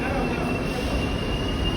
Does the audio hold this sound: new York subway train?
yes